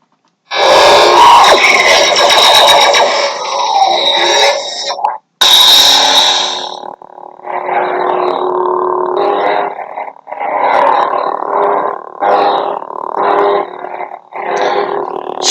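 Lightsaber ignition sound font five played by a Theory Sabers saber, a loud buzzing, distorted hum that flares on ignition and then pulses in bursts with brief gaps, close and alone without talk.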